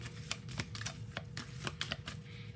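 Rapid riffling and soft clicking of cards being shuffled, a quick burst of crisp ticks close by with no talking.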